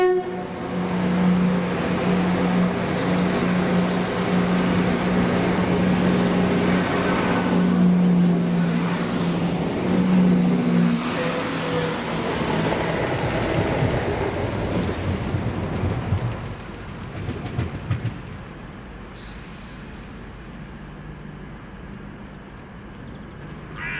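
Cross Country class 170 diesel unit 170-618 running through Derby station, a steady loud rumble with sustained horn-like tones early on, fading to a quieter idling hum in the final seconds; no voices.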